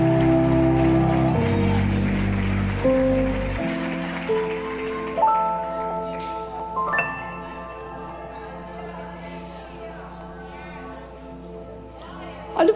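A church congregation applauds while sustained keyboard chords play, the clapping loud at first and then thinning out as the music carries on.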